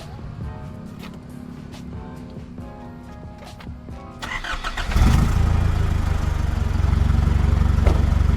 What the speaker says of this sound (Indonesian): gue bakal hidupin mesin diesel 3000 cc. Dan kebetulan ini knalpot udah dirubah juga sama ownernya. Gue bakal coba geber sedikit ya kan